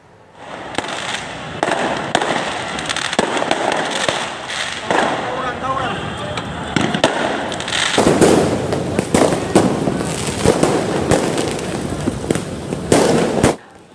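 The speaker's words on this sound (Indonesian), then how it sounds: "kedua kelompok remaja bahkan saling menembakkan petasan ke arah lawannya" Firecrackers pop and crackle in rapid, irregular bursts, some sharp and close, during a street brawl between groups of youths at night, over a noisy crowd with shouting voices.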